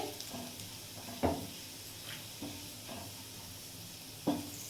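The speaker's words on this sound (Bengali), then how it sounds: "রসুনটা আমি এর মধ্যে দিয়ে দিলাম রসুনটা একটু আগে নাড়াচাড়া করে নেব" Chopped garlic frying in oil while being stirred in a pan, a soft, steady sizzle with a few distinct spoon knocks against the pan, close but fairly quiet, with no voices.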